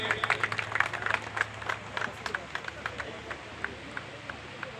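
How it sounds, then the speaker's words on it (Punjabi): An audience at a public event in Mahil Kalan, Punjab, gives scattered, moderately distant applause as claps patter irregularly under a faint hum and background voices. "ਜ਼ੋਰਦਾਰ ਤਾੜੀਆਂ ਜੀ"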